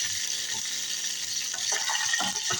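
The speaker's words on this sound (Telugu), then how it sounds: "ఫ్రై బన్ కనబడట్లేదు, అందుకే టిఫిన్లో పోపు చేస్తున్నా." Mustard seeds, cumin and curry leaves sizzle in hot oil inside a tiffin box while tempering for idli, a steady close hiss with a few crackling pops toward the end.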